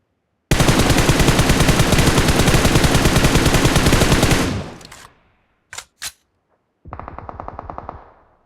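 Rapid automatic gunfire rattles loud and close in one long unbroken burst, followed by a couple of sharp single shots and then another shorter burst.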